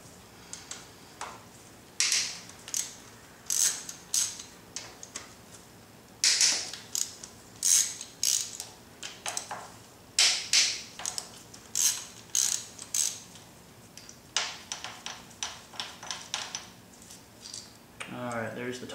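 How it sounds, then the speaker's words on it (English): A ratchet loosens 10 mm bolts on the VTEC solenoid of a Honda Civic EX, with quick bursts of close, crisp clicking separated by short pauses. "I'm going to take the top piece off first, and then I'm going to take the bottom piece off."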